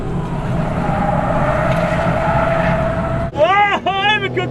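A Datsun 240Z race car roars loudly and skids under hard cornering, nearly spinning out. A steady engine and tire rush runs for about three seconds, then cuts abruptly and a voice follows.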